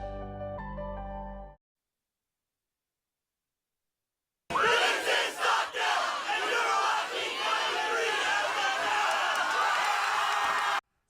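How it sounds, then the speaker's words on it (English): High school student sections at a Friday night football game between Garces and Stockdale in Kern County, roaring and cheering loudly as a large crowd with yells and whoops, following a short musical sting and a few seconds of silence. "So two of the loudest student sections right there, Garces and Stockdale."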